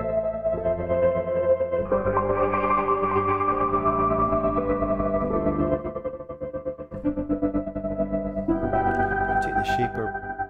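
Native Instruments Playbox synth with added vinyl crackle, sustaining layered, chorused and echoing chord tones that shift in pitch through several held sections, moderately loud with no talking over it.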